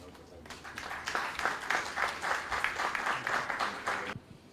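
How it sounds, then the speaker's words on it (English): An audience at a banking quiz contest applauds to welcome the quizmaster, a dense burst of many hands clapping that swells and holds for several seconds before cutting off sharply. "let's welcome the Quizmaster, Mr. Gautam Bose, with a round of applause"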